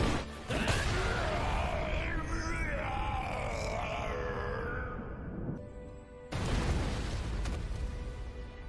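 A roaring anime explosion from a CGI Bijuu bomb in a fight scene, a dense, loud rumbling blast with yelling voices layered in, cutting out briefly before a second surge of booming noise.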